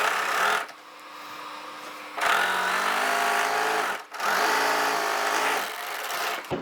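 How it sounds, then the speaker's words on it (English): Serger stitching a 1/4 inch seam allowance on garment fabric, three close bursts of dense, steady whirring motor noise separated by brief pauses, loud and near with no talk. "I'm just going to serge this down at my 1/4 inch seam allowance"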